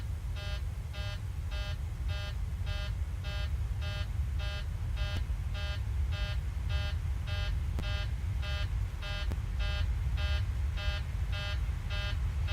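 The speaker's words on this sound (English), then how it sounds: "Yeah, I've not seen this alarm before" A cabin pressure warning sounds in the cockpit of a Boeing 737-700 in Microsoft Flight Simulator 2020. The electronic beeps repeat in a steady pattern, about two per second, over a constant low engine rumble.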